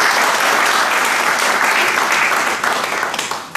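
An audience claps steadily to welcome Dr. Barjinder Singh Hamdard at the Ajit newspaper office, dense, sustained applause filling the room before tapering slightly at the end.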